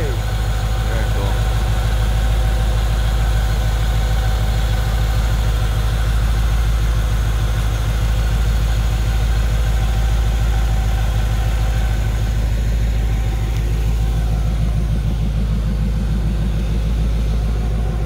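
A 1937 Ford convertible with fuel injection idles steadily after starting, a constant low, loud engine rumble that continues without change, with background voices faintly under it.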